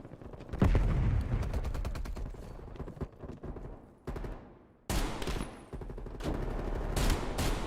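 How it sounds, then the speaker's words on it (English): Assault rifle fire in a shooter video game, with loud rapid bursts of automatic gunshots that come in dense volleys, break off briefly and then resume, close and continuous. "I can get more kills with an assault rifle"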